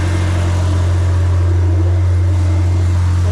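A Nissan 240SX engine idles after a leak repair, a loud, steady low hum with an even rumble and no revving, recorded up close and without voices.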